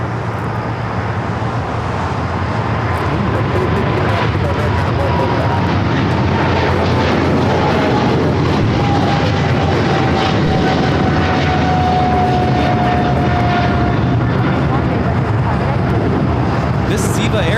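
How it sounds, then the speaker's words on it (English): Eva Air Boeing 777-300ER jet taking off from LAX, a loud continuous engine roar with a rising whine, steady and close, mixed with distant traffic noise. "This is Eva Air Flight 5 taking off to Taipei on the 777-300ER."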